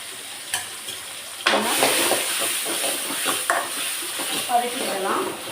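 A ground paste of pepper, cumin, garlic, curry leaves, tomato and green chilli goes into hot oil with a sudden loud sizzle, then hisses steadily while being stirred, with occasional scrapes of a spoon against the pan.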